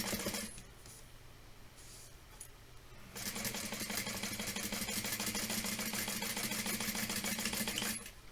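A sewing machine stitches a tote bag in a short burst, then runs in a longer steady whirring run of rapid needle clatter at close range, with no speech.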